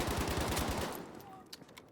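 Rapid automatic gunfire in Battlefield V, a loud sustained burst of closely spaced shots that cuts off about halfway, followed by quieter scattered in-game sounds and a few faint distant pops.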